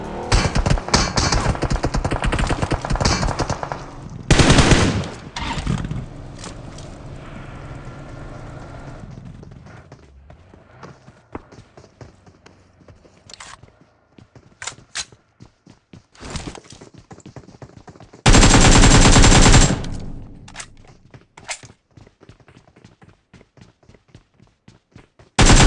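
Bursts of gunfire in a battle royale shooter, loud clustered volleys near the start and again past the middle, with scattered sharper single shots and quieter stretches of game ambience in between.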